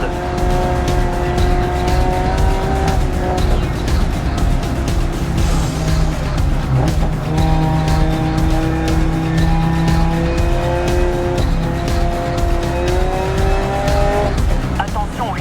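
Race cars lapping a circuit in the racing game Grid Legends, engines whining loudly with rising and falling pitch through gear shifts, tires squealing at moments, while a voice talks over the racing.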